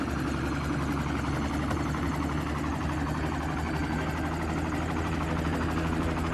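A helicopter lifts off in an action film scene in Los Angeles, its steady rotor and engine roar loud and unbroken throughout, with no voices over it.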